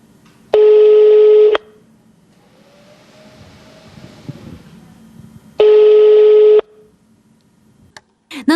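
Two long steady telephone tones on an unanswered call, each about a second long and seconds apart, with quiet line noise between them and a short click at the end.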